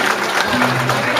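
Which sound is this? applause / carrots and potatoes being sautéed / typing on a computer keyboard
applause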